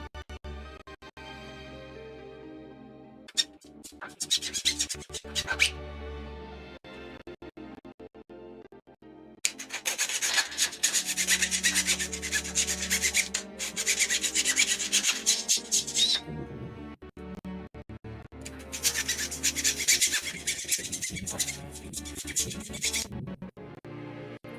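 Plastic model kit part for an MG Advanced Hazel Gundam kit being filed and sanded by hand: raspy rubbing strokes in several bursts of a few seconds each, close and fairly loud over a soft background of music.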